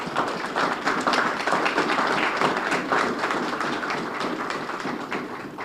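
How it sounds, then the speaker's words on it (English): An audience at the ribbon cutting for Roca Boston claps in a steady, moderately loud round of applause that holds for several seconds. "I think that applause was for the Roca Boston part"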